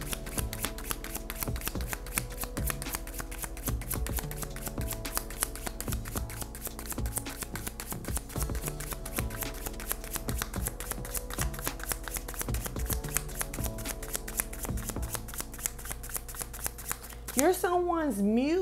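Tarot cards being shuffled by hand during a reading, a steady run of rapid riffling flicks that continues throughout, with a voice talking over it.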